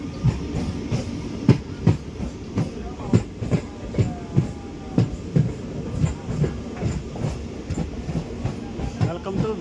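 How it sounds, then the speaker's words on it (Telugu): A MEMU passenger train runs between Guntur and Repalle, its wheels making a clear, regular clickety-clack over rail joints beneath a constant rolling rumble, heard from on board. "అయితే మన ట్రైన్ అయితే వెళ్తుంది"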